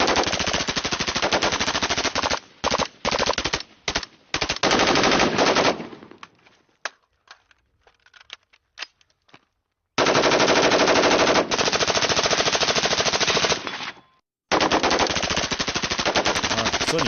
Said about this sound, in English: So let's hear what an FRT sounds like. And I will tell you, it sounds a lot like a full auto